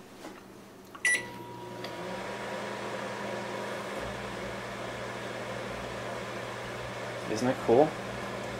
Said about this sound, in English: Now, we're going to microwave this.